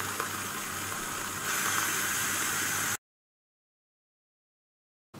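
Steam hisses forcefully from a pressure cooker vent while cooking lentil soup, for a few seconds, briefly growing louder, then cuts off abruptly into silence before a short burst returns at the end.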